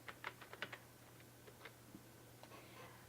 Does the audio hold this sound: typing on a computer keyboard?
yes